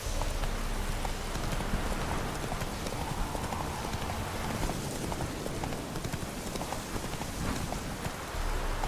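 Roach, a horse in The Witcher 3 video game, gallops through rain with steady, close clip-clop hoofbeats over a constant hiss of falling rain, and a brief whinny shows faintly.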